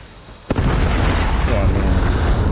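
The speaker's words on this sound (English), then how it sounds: "Friendly predator missile is ours." A predator missile strike in a multiplayer shooter video game: a sharp impact followed by a loud, sustained rumbling explosion that fills the clip, with faint voices mixed in.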